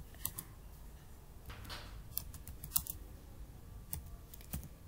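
Java code typed on a computer keyboard, quiet scattered key clicks with a few sharper taps over faint room hiss.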